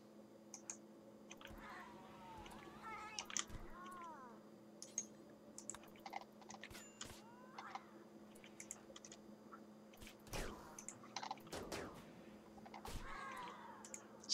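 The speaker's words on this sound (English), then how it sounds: "That's a lot of cats." Many cats meowing in the colony video game RimWorld, scattered short mews over a low steady hum, with clicking sounds mixed in and occasional talk.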